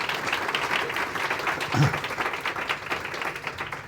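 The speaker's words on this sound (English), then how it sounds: "A round of applause, please." A conference room audience applauds after a panel conversation, steady many-handed clapping of moderate loudness with a brief spoken word partway through.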